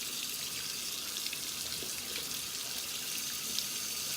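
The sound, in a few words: water running from tap to dampen face before scrub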